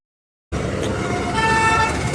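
Road traffic in Dahanu, India, rises abruptly: a loud, continuous roadside rumble of passing vehicles, with car horns tooting briefly partway through.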